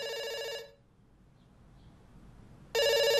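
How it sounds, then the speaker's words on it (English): A telephone rings in the video game Dr. Langeskov, The Tiger, and The Terribly Cursed Emerald: a loud ring burst that stops, a quiet pause, then another ring starting up, with no voices over it. "It's ringing. Don't worry."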